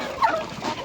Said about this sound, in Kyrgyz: чоң индюк бар экен